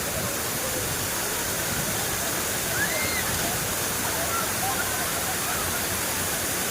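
Bolinao Falls 3 in Pangasinan pours as a constant broadband rush of falling water, loud and even from start to finish, with faint voices barely audible beneath it.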